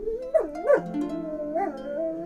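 A dog whines and howls in a few rising, wavering cries, close and alone with no other sound.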